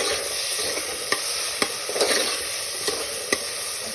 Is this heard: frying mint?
yes